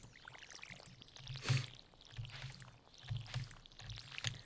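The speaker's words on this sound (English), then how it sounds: "let's water our pretty plants" Watering plants in the Stardew Valley video game: a few soft, splashy pouring bursts spread across the clip, one louder splash near the middle, with no talking.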